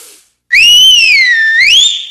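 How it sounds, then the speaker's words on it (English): A person whistles loudly with their mouth, holding one clear, sustained tone that swoops up and down in pitch for about a second and a half, heard alone and close with no other sounds. "Whistle with your mouth."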